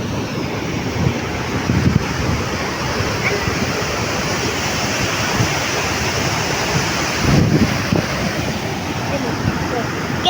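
Rushing water at Bhimkund waterfall in Odisha: a dense, continuous roar heard close up, steady throughout with slight surges and some wind buffeting on the microphone.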